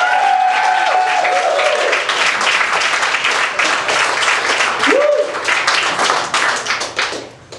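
A comedy club audience at the Laughing Skull applauds steadily for a comedian taking the stage, dense close clapping filling the room with a voice calling out briefly over it before the clapping fades at the end.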